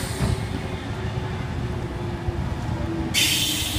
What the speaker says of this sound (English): There's also a Bondi Junction service arriving beside platform number 1.